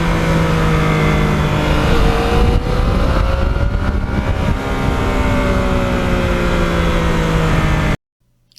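A Yamaha RD400 motorcycle ridden hard, its two-stroke engine howling loud and close as revs climb, dip briefly and climb again, then cutting off abruptly at the end.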